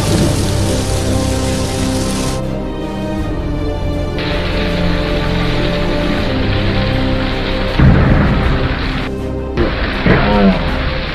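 Heavy rain falls steadily through a thunderstorm, with thunder rumbling and cracking near the end and brief cuts in the downpour suggesting edited news footage.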